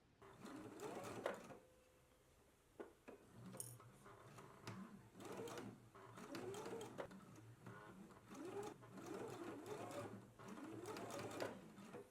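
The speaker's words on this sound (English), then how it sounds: "Let's go ahead and do the final stitches now." A sewing machine stitches the final seams of a sleeve placket in quick, rhythmic bursts of whirring and clattering, pausing briefly between runs, heard up close with no speech.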